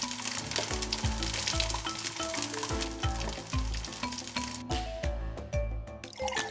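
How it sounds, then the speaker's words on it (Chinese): Ribbonfish pan-fries over low heat in oil, a dense, steady sizzle with bursts of crackling spatter and soft rhythmic knocks from the pan, close and continuous with no talking. "小火煎，外层变得松软酥脆"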